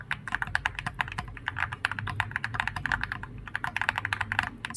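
Rapid close typing on an Epomaker Tide75 mechanical keyboard with the spacebar's silicone pillars removed: dense, steady clacks with deeper, hollower spacebar thocks mixed in, no voices.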